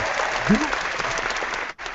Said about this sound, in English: That's the applause for your appearance on the show